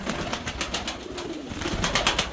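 Pigeons coo in soft, repeated throaty calls close by, with a faint background hum and no voices.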